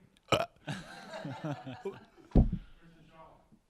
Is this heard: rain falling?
no